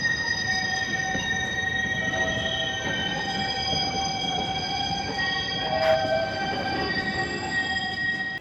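A tram rolls past with steady rumbling and metallic wheel whine, tonal squeals ringing above the rail noise, fairly distant and moderately loud.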